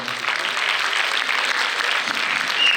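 A crowd claps loudly and continuously at a Punjabi literary fair, the Lyallpur Punjabi Suleekh Mela, dense applause filling the whole stretch without pause.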